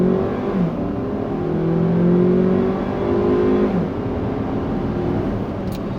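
A 2017 Kia Sportage SX with a 2-liter turbo pulls hard at full throttle, its engine note climbing through a gear, dropping at a shift, then rising again, loud and continuous from inside the cabin.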